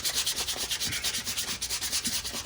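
Steady rhythmic rasping of sandpaper rubbed back and forth on wood, close and continuous with repeated strokes.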